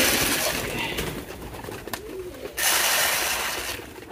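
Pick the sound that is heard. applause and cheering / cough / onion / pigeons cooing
pigeons cooing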